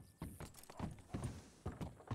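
Horse hooves clip-clop in a roleplay video game on a ranch, a steady series of sharp, fairly loud hoof impacts at a walking rhythm, with no talk over them.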